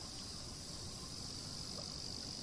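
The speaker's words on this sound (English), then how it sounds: "I hear the waves in the distance, the unchanging chorus of the cicadas." A steady, unchanging chorus of cicadas fills the background of the Nostalgic Train game ambience: a faint, continuous high insect drone with no breaks.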